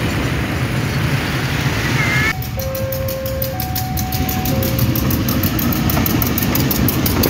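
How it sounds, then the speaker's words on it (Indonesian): A Pertamina fuel tanker train carrying diesel and petrol rolls along the main line, its engine rumbling steadily while a regular clatter of wagons passes close by, with a few tonal squeals or horn-like notes in the middle. "Rangkaian kereta api Pertamina ini sekarang masih di jalur utama"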